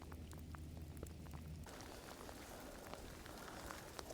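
Rain patters steadily and faintly on a hiking trail, a soft continuous hiss with scattered drips. Partway through, a low rumble drops away and the rain sound becomes brighter.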